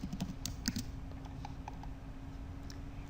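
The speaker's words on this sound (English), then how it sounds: "Type in a subject" Quick, quiet clicking of fingers typing on a computer keyboard, a steady run of light keystrokes at close range under a faint background hum.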